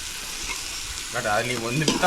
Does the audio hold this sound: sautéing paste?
yes